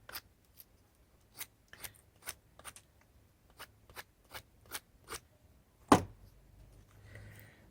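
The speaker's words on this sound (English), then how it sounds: "I just take my pocket knife, trim it down so it still has a little bit of pressure on the sides." A pocket knife trims a piece of wood for a log snowman with a series of close, light, crisp scraping cuts at an irregular pace, ending in one louder snap followed by a soft rustle.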